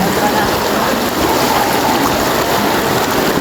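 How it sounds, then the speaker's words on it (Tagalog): Fast floodwater rushes loudly and continuously past a flooded coffee shop, a dense roaring churn of moving water heard up close with no pauses. "Lakas Agos."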